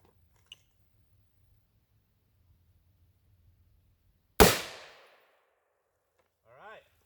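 A single sharp .223 Remington rifle shot, a 60-grain B-Max round fired from a 10.5-inch barrel, cracks loudly and decays quickly in an otherwise quiet outdoor setting, followed by a brief faint voice.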